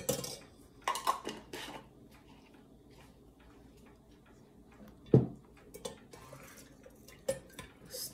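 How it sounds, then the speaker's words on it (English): A spoon stirs honey into a glass of citrus iced tea, giving several light clinks and taps against the glass, close and sparse with quiet gaps between them. "Stir it properly"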